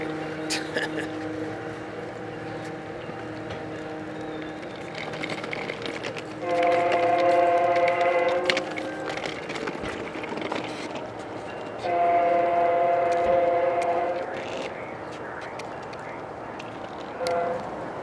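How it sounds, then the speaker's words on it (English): An Amtrak passenger train rumbles into Moorpark station nearby with steady rolling noise, sounding two long horn blasts along the way; faint talk is mixed in. "here comes Amtrak 769 about to arrive at Moorpark."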